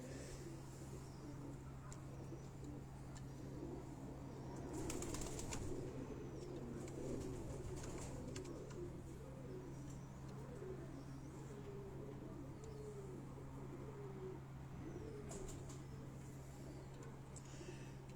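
Pigeons on a rooftop, soft cooing and occasional wing flaps over a steady low hum, fairly quiet and continuous.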